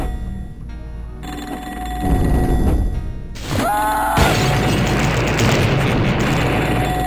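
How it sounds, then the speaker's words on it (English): A telephone rings in the first-person shooter video game Blood, with bright tonal bursts cutting through loud, rumbling game noise and booming effects. "Oh, phone!"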